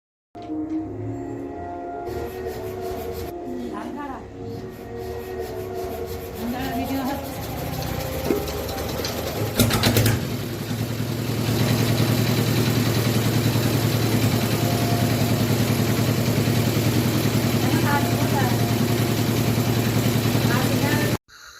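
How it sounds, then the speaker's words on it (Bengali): A rice paddy threshing machine runs in a rural Sundarbans setting, its engine a steady, close droning hum that grows louder and fuller partway through and then holds evenly. "এই মেশিন চালু হয়ে গেছে মানে আমাদের কাজ শুরু হয়ে গেছে"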